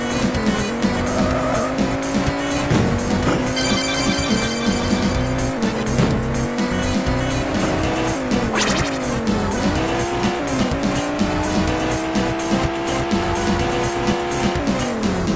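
Racing cars in the Amiga game ATR rev loudly through a continuous run of rising and falling engine tones, with tires squealing repeatedly as they drift around corners.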